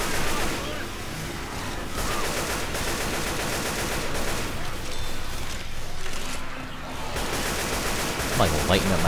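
Dense, rapid gunfire from the zombie shooter Left 4 Dead crackles almost nonstop, overlapping bursts of automatic weapons rattling loudly with brief gaps, and a player's voice briefly heard near the end.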